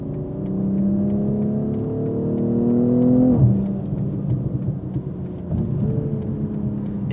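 A BMW G42 M240i with an Akrapovic exhaust and 200-cell downpipe pulls hard in sport mode, a loud rising engine note climbing steadily before a sharp shift, then pulling again, heard close from inside the car.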